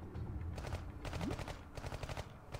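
Iron Marines battle sounds: rapid bursts of small automatic gunfire in repeated clusters, fairly quiet and steady throughout, with game effects underneath.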